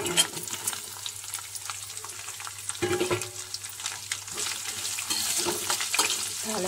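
A tempering of dried red chilies, garlic and onions sizzles in hot oil while being stirred, a steady frying hiss with intermittent spatula scrapes and clinks, close and without speech.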